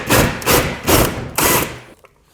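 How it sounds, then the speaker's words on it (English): A hole saw bit bores through drywall, pilot first and then the teeth, with three loud grinding bursts of cutting noise that cut off abruptly near the end. "First the pilot hole goes into the drywall"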